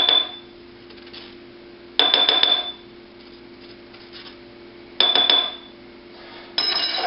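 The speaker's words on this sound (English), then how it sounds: "you're going to take your spoon again, and you're just going to scrape all the seeds" A metal spoon scrapes tomato seeds into a glass jar in three separate bursts of clinking and rasping, each lasting under a second, with quiet pauses between them.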